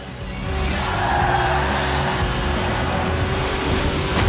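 Steady, loud engine roar of a car drifting sideways in Forza Horizon 4, a light 1.8-litre car revving high, sustained without pause.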